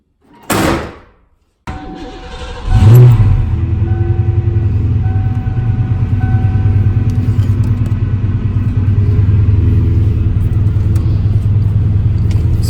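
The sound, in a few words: 1988 Ford Mustang GT 5-speed engine running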